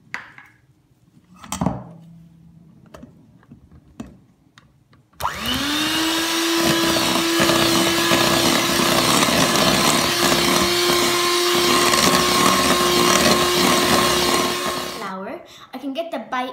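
Electric hand mixer beating chocolate chip muffin batter, switching on loudly after a few quiet seconds of small kitchen clatter and running at a steady high whine for about ten seconds before stopping.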